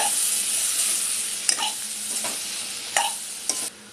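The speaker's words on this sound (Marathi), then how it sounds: "आता याला 2 मिनिटं परतवून घेऊया" Masala sautéing in a pan for a Malvani radish-and-fish dish, a steady sizzle broken by a few sharp scrapes and clacks of a spoon stirring against the pan, close and alone.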